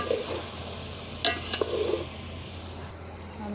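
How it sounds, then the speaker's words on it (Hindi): Chicken sautéing in a pan for village-style yakhni pulao: a low, steady sizzle with a couple of brief spoon clinks and scrapes near the middle, close and fairly quiet. "चिकन को भून रही हूँ, थोड़ा भून लूँ"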